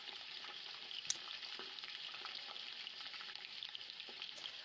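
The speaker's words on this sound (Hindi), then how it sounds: "और ऑयल जब गर्म हो जाएगा तो उसमें दो बड़ी साइज की कटी प्याज शामिल कर देंगे" Two large chopped onions frying in hot oil in a pot for a mutton curry, a steady close sizzle with faint stirring clicks and one sharp pop, no voices.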